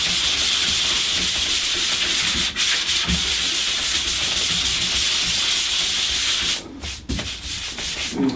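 P180 grit sandpaper on a small hand sanding pad rubs back and forth over thin birch veneer, a loud continuous scratchy hiss with brief pauses near the end.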